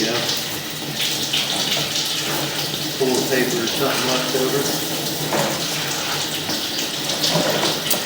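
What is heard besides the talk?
water running through a drain pipe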